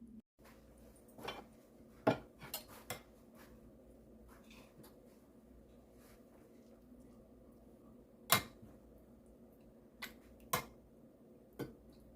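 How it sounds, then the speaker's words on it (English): Oxtails are plated over rice in a quiet kitchen, with sparse sharp clinks and taps of utensils against dishes scattered among faint background hum. "let's plate these oxtails over rice up, Southern style"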